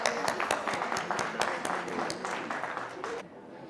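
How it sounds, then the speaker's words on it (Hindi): Audience clapping for an award recipient called to the stage at an excellence award ceremony, a dense, steady patter of many hands with a few sharper claps, fading out near the end. "एक बार जोरदार ताली डॉक्टर मथुर के लिए."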